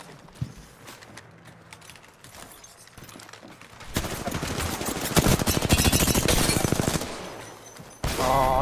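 Rapid video game gunfire, quiet scattered shots at first, then a long, loud, steady automatic burst of tightly spaced cracks, a pause and another close burst at the end.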